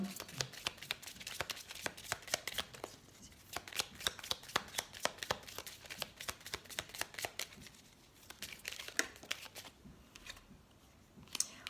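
Tarot cards are shuffled close up, riffling and flicking in rapid repeated bursts with short pauses, with faint speech in the background.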